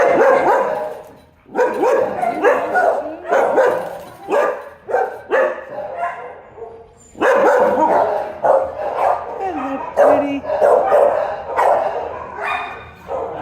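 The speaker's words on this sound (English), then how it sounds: "Guess these are all dogs needing a home." Many dogs at a shelter bark and yip in loud, overlapping bursts that fill the space almost continuously, with brief lulls. A person speaks briefly amid the noise.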